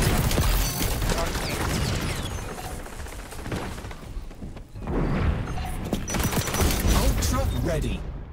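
Explosions and rapid gunfire from the online shooter XDefiant during a match: dense, loud bursts of booms and shots fill the whole stretch, with a short lull midway before another heavy wave of firing.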